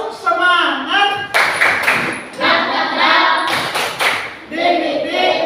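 Schoolchildren and a teacher do a rhythmic spirit clap, with bursts of claps marking a beat. Voices chant over and between the claps throughout.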